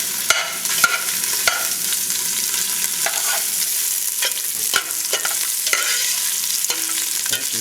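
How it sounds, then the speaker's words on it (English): Ingredients stir-fry with chili bean paste and light soy sauce, along with green onions, garlic and ginger, in a steady loud sizzle. Scattered clicks and scrapes of a utensil against the pan run through it, with no talking. "Have to hear the sizzling"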